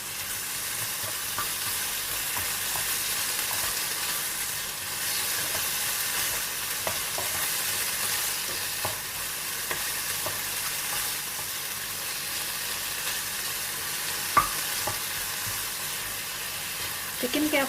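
Bell peppers and other vegetables sauté in a pan for chicken cheese bread with a steady, close sizzle and frying hiss that runs unbroken for nearly eighteen seconds, plus a few faint stirring clicks.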